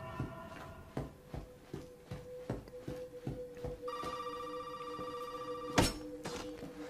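A telephone ringing in the Resident Evil 7 demo, a repeating bell-like ring over a rhythmic series of thuds, fairly faint and with no talk.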